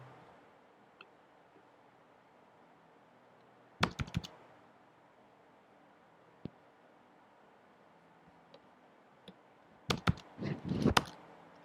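A command is typed on a computer keyboard to set up an Nginx web server on CentOS 8, with scattered single key taps and then two quick bursts of close, crisp keystrokes in a quiet room.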